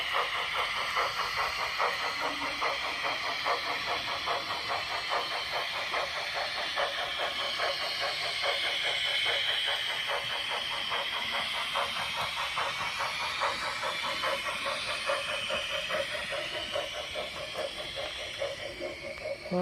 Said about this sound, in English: It's now shunting all the wagons back, which is totally unrealistic because of the size of the train